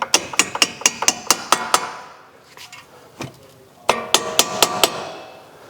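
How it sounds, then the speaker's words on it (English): Hammer taps on strut mount bolts during a Viking coilover strut install on an S550/S650 Mustang: a quick run of about eight sharp metallic blows, a short pause with a few softer knocks, then another burst of about six loud close strikes. "just tap the bolts in"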